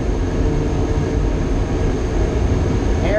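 A logging yarder engine runs at full throttle in high gear on a foggy hillside, giving a loud, steady, heavy mechanical roar that holds constant from start to finish.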